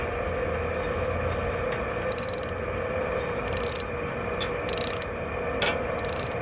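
A socket ratchet tightening the spark plug on a Toro Wheel Horse riding lawnmower, with short bursts of sharp clicking repeating irregularly over a steady mechanical background hum.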